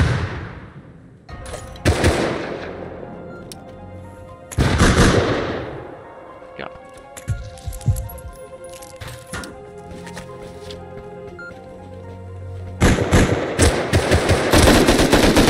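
Bursts of AK rifle fire crack in the survival video game Rust, rapid volleys near and loud at the start, middle and end, with sparser distant shots and clatter in between.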